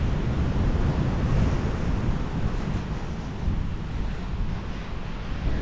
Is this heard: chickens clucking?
no